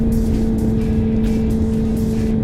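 A Kawasaki ZZR 400 motorcycle on the ride home from the beach, with a steady engine drone and a constant tone from close by, and heavy wind rumble underneath.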